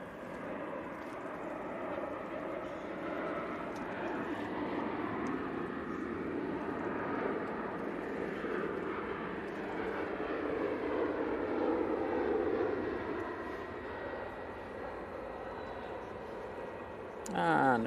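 A Lufthansa airliner arriving at Manchester Airport, its jet engines a steady, broad roar that slowly swells and holds for many seconds at moderate distance outdoors.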